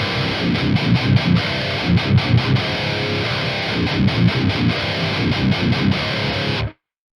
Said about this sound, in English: Just the distorted amp sound is just world class